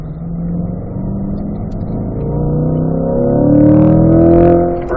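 A Chevrolet C8 Corvette engine accelerates hard on a race track, its rising harmonic tone climbing steadily in pitch and loudness over about five seconds, sustained and close with no talk.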